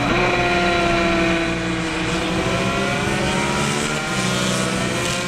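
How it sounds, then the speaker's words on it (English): A GP lightweight class racing motorcycle at a road race, its engine holding a loud, steady high-pitched drone throughout, close and continuous with no voices. "Jordan Reed making a charge now on the GP lightweight bike as the leader in that class."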